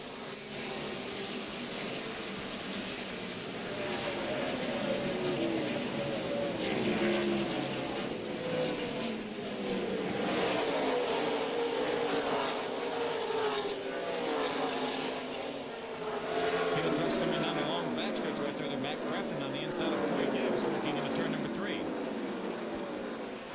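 NASCAR Truck Series race trucks roar at the start of a race at Nazareth, Pennsylvania, a steady, dense engine drone from the field that rises and falls as the trucks pass, with broadcast commentary talking over it throughout.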